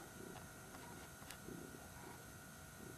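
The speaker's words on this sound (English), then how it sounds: "If you can hear purring off to my right, that is Blackie on the night table" A faint, low cat purr rising and falling in slow rhythmic pulses beneath a steady background hum.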